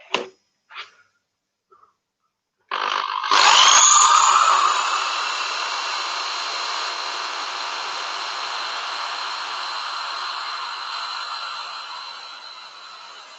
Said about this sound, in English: I think it might have helped if I picked a bloody sharp drill